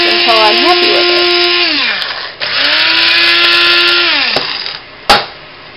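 An electric coffee grinder whirs as it grinds coffee beans, a loud motor whine running in two long bursts with pitch swoops as it spins up and down, ending with a sharp click.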